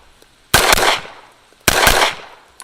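Two loud gunshot bursts from a submachine gun fitted with a red dot sight, about a second apart, each a sharp crack with a decaying rattle, no talking.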